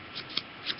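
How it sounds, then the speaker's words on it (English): A deck of trading cards is riffled and shuffled by hand, a close, crisp flurry of card flicks with a few sharper snaps, heard alone without talk. "So we're going to shuffle these up"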